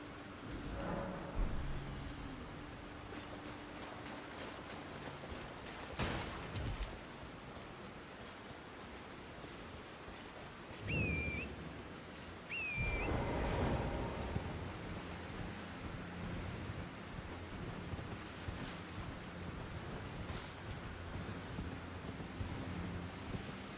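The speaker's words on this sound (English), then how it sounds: "I'm not sure I've ever seen it rain in this area." Steady rain hiss with a couple of rumbling thunder booms in a video game during a deathless randomizer boss run, continuous and moderately loud with no talk over it.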